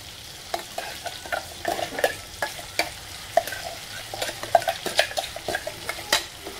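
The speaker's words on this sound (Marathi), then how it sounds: "आता ही पेस्ट टाकू आपण त्याच्यामध्ये." A ground spice paste fries in oil in a pan while a spoon stirs it, producing soft sizzling broken by irregular scraping clicks of the utensil against the metal.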